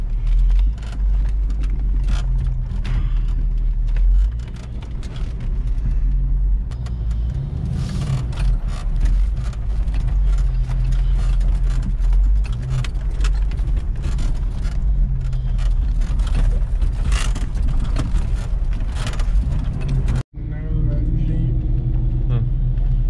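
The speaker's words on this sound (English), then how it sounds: "Turbocharged Jeep." A turbocharged Jeep engine rumbles while off-roading at Tray Mountain, a steady low drone with shifting mechanical noise. A brief cut comes near the end, and people talk over it.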